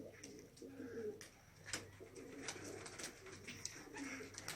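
Young homing pigeons coo softly and repeatedly during flight training, a steady murmur of low, rounded calls with faint chirps in an outdoor setting, moderately distant and never loud.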